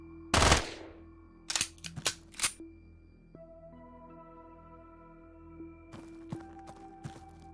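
In the game Quasimorph, a gun fires in a sharp opening shot and then a quick cluster of three or four cracks, followed by quiet tonal game sounds and a few softer clicks.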